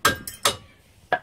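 Three sharp, close taps of a hide mallet on a brake pad carrier bolt of a Mazda MPV's front brakes, short ringing knocks with uneven gaps between them.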